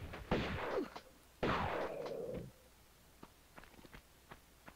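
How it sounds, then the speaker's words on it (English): Two close, heavy shotgun blasts in a video game, each with a booming decay, followed by faint scattered clicks and steps. "3 shotgun blasts, close range"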